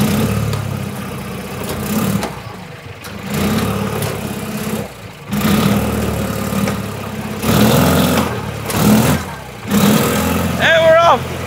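An old UTV engine pulls off in high gear, a steady mid-pitched drone that rises and falls in bursts of revving, close and loud, with people talking over parts of it.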